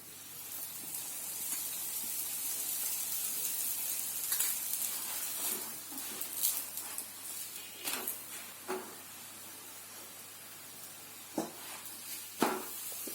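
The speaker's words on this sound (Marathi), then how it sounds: "आपल्याला तेल टाकायचं आहे थोडं थोडं." An aloo paratha fries in a little oil on a hot pan, giving a steady soft sizzle and hiss with occasional sharper crackles and spatters, close up and alone without talk.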